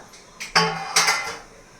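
A metal lid comes off a pot of steamed green peas dhokla with a couple of sharp clanks and scrapes, loud and close, ringing briefly before fading.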